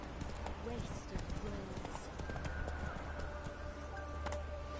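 The horse Roach gallops in The Witcher 3, rapid hoofbeats pattering steadily beneath a voice speaking over the game sound and a low ambient drone.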